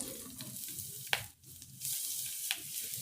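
Onion sautéing lightly in hot oil for a spicy garlic chilli rice, a steady close sizzle with a few sharp spatula scrapes and a brief dip before the frying hiss returns.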